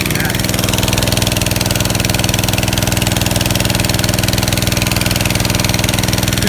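An engine-driven pump fills a sprayer tank for top dressing hay fields, with a loud, steady engine drone and a fast pulsing throb holding unchanged throughout.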